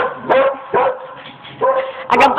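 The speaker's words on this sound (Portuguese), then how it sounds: "A campainha tocou e o cachorro assustou a Vicky" A dog barks in four loud, separate bursts after a doorbell rings, each sharp woof close by with brief gaps between them, the last burst slightly higher and yappier.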